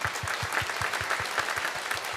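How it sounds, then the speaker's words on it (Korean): Church congregation clapping together to welcome first-time visitors during a Sunday worship service, a steady continuous wash of applause from a large crowd with no voices over it. "우리 박수로 환영하도록 하겠습니다"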